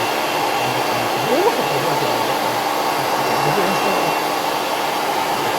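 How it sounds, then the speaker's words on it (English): A hair dryer drying a watercolour painting blows with a steady, loud whooshing hiss and low motor hum, running continuously without pause. "I used it a lot throughout the picture, the hairdryer"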